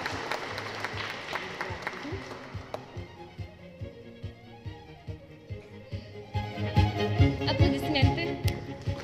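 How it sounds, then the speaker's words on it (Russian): Applause at a ceremony in a formal hall: scattered rhythmic clapping that thins out mid-way and then swells again. A voice and some tonal sound run underneath. "Аплодисменты."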